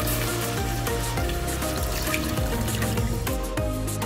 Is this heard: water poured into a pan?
yes